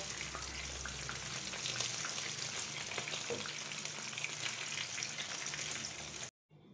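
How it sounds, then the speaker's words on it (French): Stuffed sardines fry steadily in hot oil, a dense, even crackle and sizzle that runs unbroken at close range before cutting off abruptly near the end. "donc je termine ma friture"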